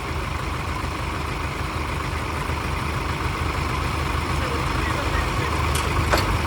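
A steady engine drone runs throughout, loud and continuous, like a tractor idling nearby, with a couple of brief sharp ticks near the end.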